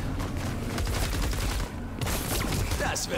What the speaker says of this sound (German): Hört mal auf mit Raketen zu schießen.